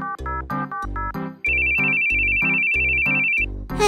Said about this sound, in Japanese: はいはい、電話ね。